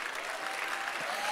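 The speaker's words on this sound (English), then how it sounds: "Can we clap hands for serving in the house?" A church congregation at a conference service claps together in a steady wash of applause that continues through the whole short moment, heard from within the hall.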